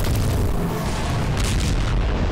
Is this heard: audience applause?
no